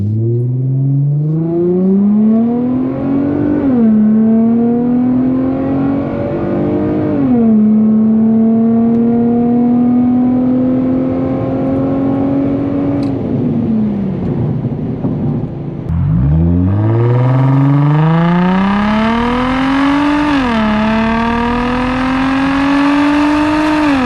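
An Infiniti G35 with a resonator and muffler delete accelerates hard through several gear shifts, its loud raspy exhaust climbing in pitch, dropping at each shift, then rising again, heard from inside the car with no talk.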